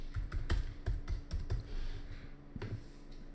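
Rapid keystrokes on a computer keyboard while a short name is entered, with clustered clicks in an uneven rhythm, close and clear and then pausing near the end, with no voices.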